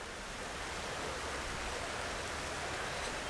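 A creek flows steadily outdoors, a constant broadband rush of water that stays even and unbroken throughout, fairly soft with no voices.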